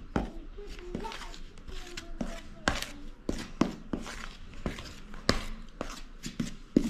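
Dry flour ingredients for homemade pizza dough being mixed by hand in a bowl, giving repeated soft scraping taps and thumps in an irregular rhythm, close and fairly quiet, with someone speaking intermittently.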